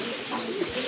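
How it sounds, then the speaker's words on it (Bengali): A pair of fancy breeding pigeons coos softly at close range, with a low murmuring coo rising briefly near the end over faint background noise. "খুবই সুন্দর টপ লেভেলের এক জোড়া কবুতর"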